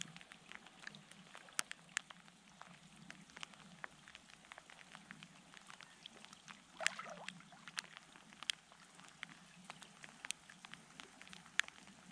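Rain patters steadily on a lakeside campsite in Quetico, a quiet, even hiss of drops with a few sharper individual taps scattered throughout and no voices.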